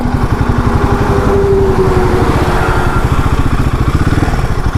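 New 2025 Royal Enfield Himalayan 450 motorcycle being ridden, a loud close engine with a fast regular pulsing thump and a steady drone, with no talking over it.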